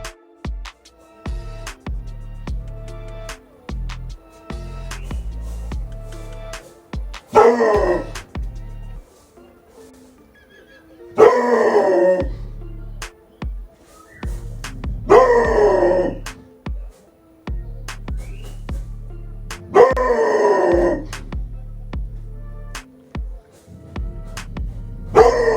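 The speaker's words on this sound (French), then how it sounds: "J'ai réussi à choper Reis en train d'aboyer" A Rottweiler puppy barks in separate bursts spaced a few seconds apart, close and loud, with quieter thumps and rustling between barks.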